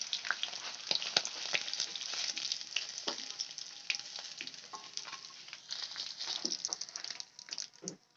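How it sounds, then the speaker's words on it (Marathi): Paneer cubes shallow-frying in a pan of oil, a dense continuous crackling sizzle with scattered sharper pops, steady and close throughout with no talking. "अशा पद्धतीने आपण सगळा पनीर तळून घ्यायचा आहे."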